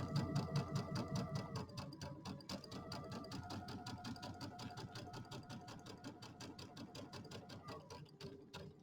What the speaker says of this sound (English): So I like to sew over it a couple times.